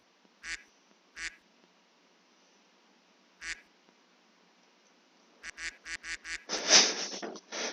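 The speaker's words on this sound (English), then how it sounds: "I love the duck." A duck quacks in a game clip: a few isolated quacks, then a rapid run of quacks building into a loud, harsh burst at the end, with no talk.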